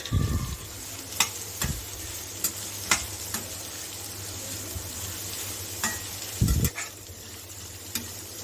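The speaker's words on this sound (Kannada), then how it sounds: "ಸ್ಟವ್ ಫ್ಲೇಮ್ನ ಸ್ವಲ್ಪ ಹೈ ಇಟ್ಕೊಂಡು ಚೆನ್ನಾಗಿ ಈರುಳ್ಳಿನ ಫ್ರೈ ಮಾಡಿ ತಗೊಳ್ಳಿ" Onions frying in hot oil in a pan over a high flame for dry chicken, a steady close sizzle broken by a few sharp stirring scrapes and clatters, with no talking.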